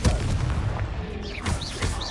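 A Confringo fire spell explodes in the video game Hogwarts Legacy with a heavy, booming blast over dense battle noise, followed by a whooshing magical streak.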